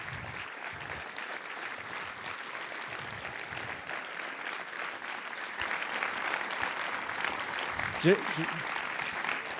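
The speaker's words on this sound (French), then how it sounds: "Je demande d'applaudir Vincent Munier." A theater audience at a French film premiere of the forest documentary Le chant des forêts applauds wildlife photographer Vincent Munier, steady dense clapping throughout, with a voice briefly starting to speak near the end.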